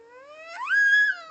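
A voice imitates a dog's bark, one drawn-out rising and falling yelp lasting about a second, close and fairly loud with no other sounds around it.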